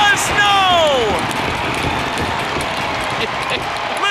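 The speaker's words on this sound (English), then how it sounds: "Listen to this crowd here" An ice hockey arena crowd roars during an overtime period, a broad, sustained swell of cheering and clapping filling the space, with a whistle-like tone sliding down near the start and talk faintly mixed in.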